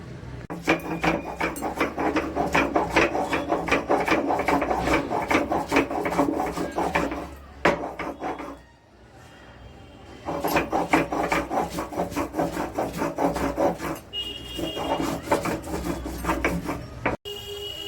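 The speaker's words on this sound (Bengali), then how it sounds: "একটু আদা, কাঁচা রসুন আর কাঁচা লঙ্কা দিয়ে আমি বেটে নেব।" Soaked masoor lentils and gobindobhog rice ground with ginger, raw garlic and green chilli, a steady loud rasping, scraping grind running continuously with a brief pause midway, no talk.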